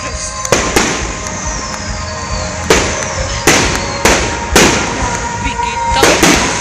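Fireworks bursting over a mayoral and vice-mayoral inauguration celebration in Talisay City, a string of sharp loud booms and crackles at irregular intervals, with excited voices talking and exclaiming in between.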